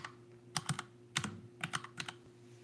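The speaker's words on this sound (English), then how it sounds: "So right now we're typing something, right?" Quiet bursts of typing on a computer keyboard, clusters of quick key clicks with short pauses between, over a steady low electrical hum.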